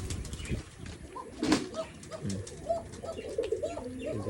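Pigeons coo in a village pigeon house, low repeated burbling calls close by, with a brief wing flap and scattered rustling around them.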